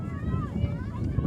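Wind gusts buffet the microphone at an outdoor ultimate frisbee game, a steady low roar and rumble that stays close and moderately loud. Faint voices sit in the background.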